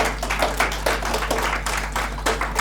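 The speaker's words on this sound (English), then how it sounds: "Huge round of applause for Goa Outreach" A crowd at an NGO meet-up in Goa claps for an outreach group, a dense patter of hands at moderate volume over a steady low hum, continuing evenly throughout.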